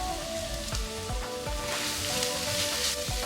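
Ginger, garlic and slit green chilies fry in a pan with softened onions, giving a steady close sizzle with a faint crackle and a few light knocks under it, with no talking.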